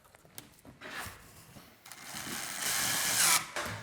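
A power drill driving screws into a patio door, with bursts of whirring motor that build to a loud, steady high-pitched spin near the end, heard close by.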